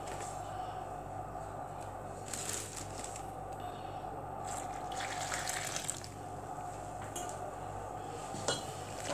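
Water poured into a bowl of feteer dough mixed with oil, ghee and butter, a steady running trickle with light clinks of dishes in a kitchen, close and fairly quiet, no talking.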